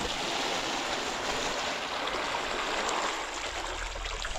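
Water from a bucket flowing or being poured at a Kenyan home, a steady, close rushing trickle that continues evenly throughout without pause.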